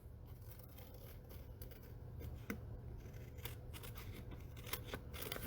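Scissors trim paper around a decorated envelope flap with a series of quiet, close snips spaced irregularly over a soft background hush.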